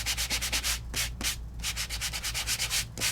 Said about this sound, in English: you're just giving it a nice light sanding to expose that colored paper that is underneath